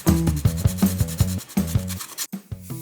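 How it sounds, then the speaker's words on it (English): Sandpaper rubs over a 3D printed plastic model in quick, steady back-and-forth strokes, loud and close, with a brief pause near the end. "So I started by trying to sand everything smooth."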